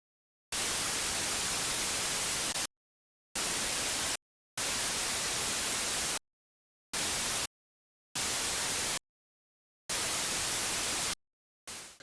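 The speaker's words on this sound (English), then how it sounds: "that's just white noise, which by its very nature is just random static" Bursts of loud white noise static, steady and hissing across the whole range, switch on and off abruptly in several blocks separated by silent gaps, with no voice present.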